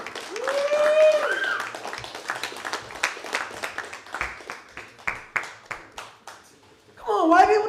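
A comedy club audience claps and cheers briefly after a voice over the sound system. The applause then thins into a scattered, rhythmic clatter of individual claps before an announcer speaks again.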